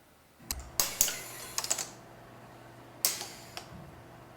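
A few quiet, scattered keystrokes on a computer keyboard during early testing, coming as short clicks in two small bursts with a pause between them.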